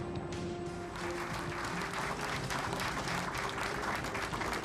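A crowd at a 2015 South Korean military live-fire exercise applauds an A-10 and Apache formation, a dense, continuous clapping that fills the whole stretch over a low steady hum.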